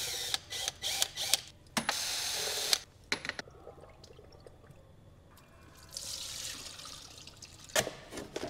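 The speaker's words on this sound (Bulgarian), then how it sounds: "Започвам с източването на маслото." Transmission oil being drained from a Mercedes 9G-Tronic gearbox during a workshop fluid change, with bursts of clicking tool and mechanism noise, then a quieter stretch of steady trickling and dripping, with no talking.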